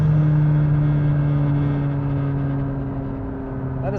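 A McLaren 570S engine holds a steady low hum with a faint whine layered on top, easing slightly toward the end, heard close and alone.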